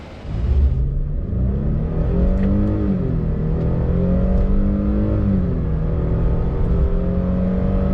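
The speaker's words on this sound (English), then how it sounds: "I did get a good 0 to 100 km/h launch yesterday" A 2022 Nissan Frontier PRO-4X pickup accelerates hard from a standstill toward 100 km/h, its engine note climbing in pitch and dropping at each gear shift, loud and close throughout.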